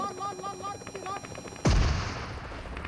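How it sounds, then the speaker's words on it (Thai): Electronic sounds from PUBG Mobile with tonal beeps, then a sudden loud gunshot blast followed by a decaying rumble and echo. "มีเสียงปืนจากด้านหลัง"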